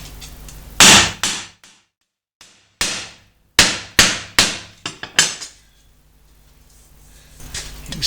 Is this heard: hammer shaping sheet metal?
yes